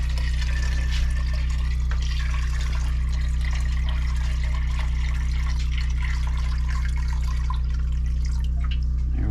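Water pours steadily into a Berkey water filter at an off-grid cabin in winter, making a continuous loud splashing rush with a deep resonant hum underneath that ends abruptly.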